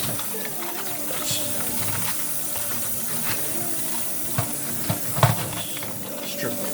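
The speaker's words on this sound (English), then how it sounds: "Just washing the cabbage." Cabbage is rinsed under a running kitchen tap, giving a steady hiss of water with a few brief splashes and knocks near the end.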